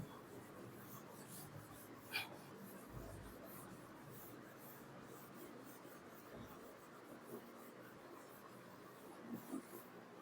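Handwriting a sentence, a faint continuous scratch of pen or pencil on paper with a few small louder taps, quiet and close, no talk.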